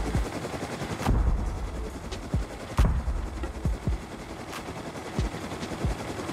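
Turret gunfire in a looting raid game on an explosives cache, sharp isolated shots and short bursts spaced irregularly over a constant low rumble, with no talking.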